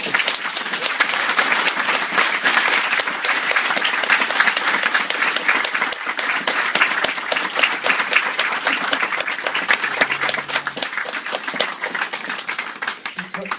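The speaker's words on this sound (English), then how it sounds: "Give him a nice hand clap." Audience applause after an introduction, a steady, close wash of many hands clapping that runs evenly and loudly from start to finish.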